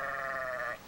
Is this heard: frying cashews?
no